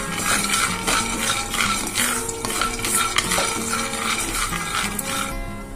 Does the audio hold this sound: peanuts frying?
yes